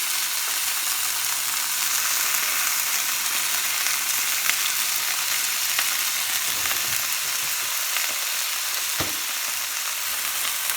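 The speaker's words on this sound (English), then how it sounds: "So my oil is hot. I'm going to sear it." Pork loin sears in hot oil with a steady, dense sizzle that holds evenly throughout, broken by a few faint clicks and one sharp tap near the end.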